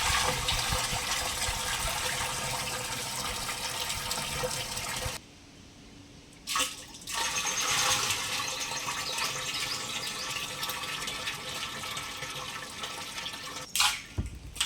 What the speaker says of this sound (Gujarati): જે આ શેરડીનો રસ છે આપણે કાઢ્યો તો એ છે, બધી ટાંકીની અંદર થોડો થોડો નાખી દઈએ।